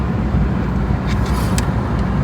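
A vehicle travels along a road near a waterfall area in Karnataka, giving off a loud, steady rumble of engine and tyre noise from inside or close by, with faint passing whooshes.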